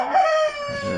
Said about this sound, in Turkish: Şu tahminim horoz.